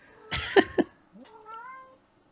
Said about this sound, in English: After meowing at the door on the other side to get in